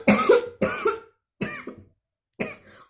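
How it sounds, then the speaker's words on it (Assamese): Four dry, harsh coughs from a sick person come in separate bursts with short silent gaps between them, close and loud. "মোৰ বহুত বেমাৰ হৈ আছে সেইকাৰণে মোৰ কাহ হৈ আছে"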